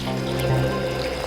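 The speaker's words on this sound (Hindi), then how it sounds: "सचिन, रेडी, पी लो पानी।" Drinking water is poured, giving a short, close trickle of liquid that lasts about a second, with no talk.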